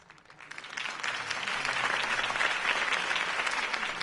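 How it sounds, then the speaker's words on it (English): Crowd applause at a political campaign rally in the Batman Telltale video game swells from a light patter into sustained, dense clapping. "If only Mr. Wayne, my campaign's largest backer, could have heard that applause"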